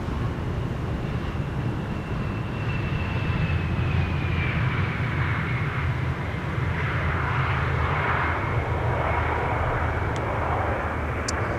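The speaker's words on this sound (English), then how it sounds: "an Embraer 175 arriving from Prague, Czech Republic, KLM flight 1352" A KLM Embraer 175 jet airliner arrives and lands on Schiphol's Buitenveldertbaan runway 27, a steady loud jet engine roar with a falling whine throughout, no voices.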